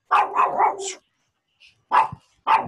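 A house dog barks in a quick run of three or four loud, close barks, goes quiet, then gives two more sharp barks, with no voices over it.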